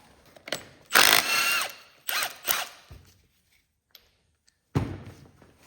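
Wrench work on a seized Kohler Magnum 18 engine from a Cub Cadet 1862, loosening a 9/16 bolt near the flywheel coupling: a few bursts of close metallic ratcheting and clanks separated by quiet gaps, no talk.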